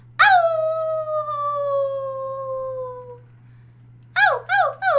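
A person imitates a wolf howling at the moon: one long, loud howl sliding gently downward for about three seconds, then a quick burst of short yelping howls after a pause.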